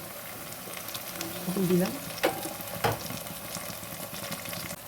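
Ginger garlic paste frying in a hot pan, giving a steady close sizzle with some stirring clatter and brief sharp crackles, while a voice speaks briefly.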